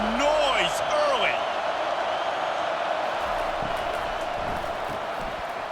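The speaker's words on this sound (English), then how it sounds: "This crowd bringing the energy and noise early." Stadium crowd at a college football game: a loud, continuous roar of many voices with whistles, while an announcer talks over it.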